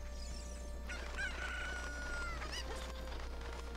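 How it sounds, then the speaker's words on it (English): A cucco chicken from Zelda Ocarina of Time lets out a rising crow with a few clucks around it, heard clearly over a constant low background hum and no voices. "Now, where'd that other chicken go?"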